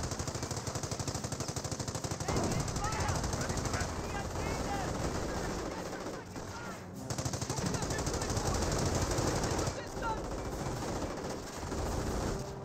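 Sustained machine-gun fire in the WWII strategy game Company of Heroes, long rattling bursts of rapid shots with short gaps between them, loud and continuous amid battle noise and explosions.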